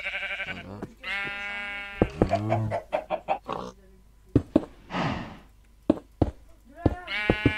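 Sheep in the video game Minecraft bleat in several short, wavering calls at the start and again at the end, with clicks and scattered game sounds between them.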